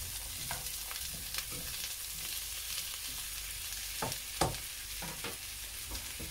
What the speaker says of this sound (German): jetzt schmeißen wir da mal Zucchetti rein. Mit ein bisschen rühren.